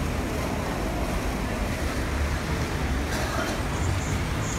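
Ocean waves on a beach make a continuous, loud, broadband roar of surf with no voices over it.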